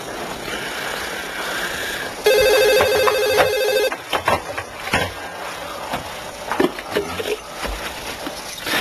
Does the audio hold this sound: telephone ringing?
yes